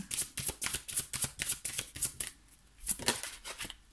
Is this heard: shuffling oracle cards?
yes